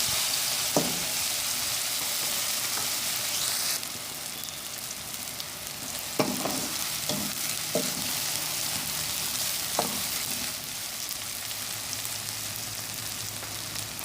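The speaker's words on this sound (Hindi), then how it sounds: "हमने बस इतना फ्राई करना है कि टमाटर सॉफ्ट हो जाएं।" Tomatoes with chopped chillies fry in a pan for an egg and onion curry, giving a steady close sizzle throughout with a few soft clicks of stirring, no voices.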